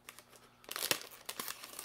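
A foil snack packet being torn and opened, crisp crinkling and crackling in close bursts that swell into a loud rustle and come again, with no talking.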